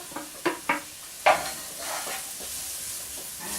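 Garlic and onions frying in olive oil get stirred, a few sharp scrapes of a utensil in the pan followed by a soft, steady sizzle close by.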